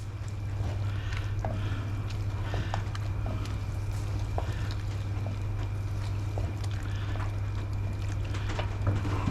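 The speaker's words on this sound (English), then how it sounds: "So place that back in, give it a stir around." Beef stew stirred in a pot on a stove, coming up to the boil: a steady low simmering rumble with soft wet sloshes and faint scraping taps spread through, no voices.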